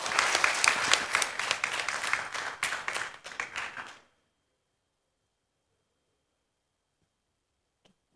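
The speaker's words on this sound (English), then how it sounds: "let's give Ryan a round of applause" An audience claps for the speaker Ryan at an academic conference, a burst of dense applause lasting about four seconds before cutting off abruptly into near silence.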